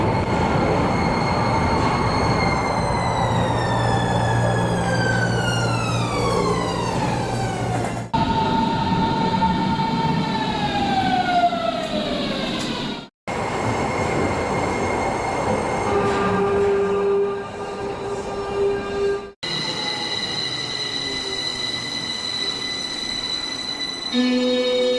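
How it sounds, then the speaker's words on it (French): A Tokyo Toei Oedo line linear motor subway train runs through its tunnel, its motor whine rising and falling in pitch through acceleration and braking, with rumbling wheels, loud and close, in several segments without talk. "Et voilà comment fonctionne un train de la ligne Oedo à Tokyo."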